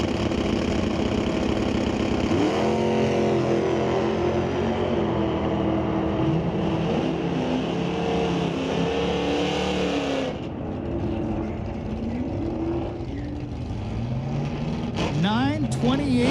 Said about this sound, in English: We got Amber Rutherford, 66 Mustang in the left lane